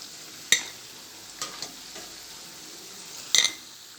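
Potato vadas frying in hot oil in a home kitchen, with a soft steady sizzle throughout and a few sharp metallic scoops and clinks as the fritters are lifted out one by one.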